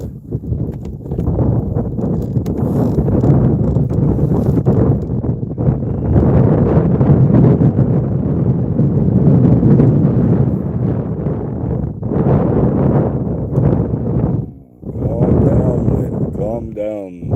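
Strong wind buffeting a microphone outdoors while fishing for crappie and bluegill, a loud continuous rumble with gusts that dip briefly near the end, with people talking under it.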